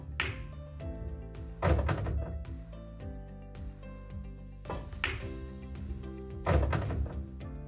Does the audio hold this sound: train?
no